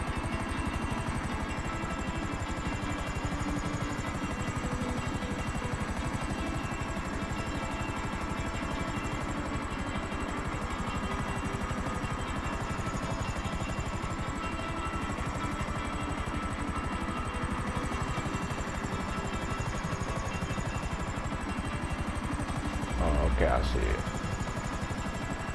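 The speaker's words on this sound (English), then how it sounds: "a helicopter lets you land anywhere" A helicopter flies in Grand Theft Auto V with a steady, loud rotor thrum and engine whine droning throughout, a slight wavering hum on top and a brief clunk near the end, while voices are heard talking over it.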